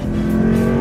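A Japanese M sedan accelerating hard under power, a loud, close, sustained engine note with a steady strong tone, heard alone without voices for under a second.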